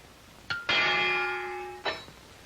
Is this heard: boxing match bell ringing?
yes